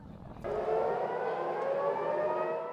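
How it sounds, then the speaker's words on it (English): Air raid siren in Tel Aviv starting abruptly and holding a steady sustained wail, heard fairly distant and alone without talk. "Air raid sirens sounded across Tel Aviv early Friday"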